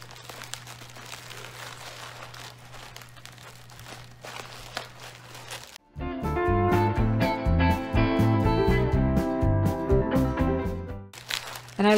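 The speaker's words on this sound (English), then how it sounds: "I'm going to bubble wrap it. And I like to work with 1/2 inch large bubble wrap." Half-inch large bubble wrap being folded over and taped around a decorative wall plate. Quiet crinkling and handling come first, then a loud, sustained burst of close crackling and tape pulling for several seconds before it drops back to quiet handling.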